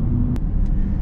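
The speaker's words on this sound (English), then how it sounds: "do you like that mighty 8-liter V8?" A GM SUV with an 8.1-liter V8 idles nearby, a steady deep low rumble throughout, punctuated by a couple of brief sharp clicks, with no talking.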